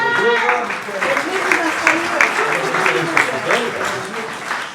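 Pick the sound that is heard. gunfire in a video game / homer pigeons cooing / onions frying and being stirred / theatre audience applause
theatre audience applause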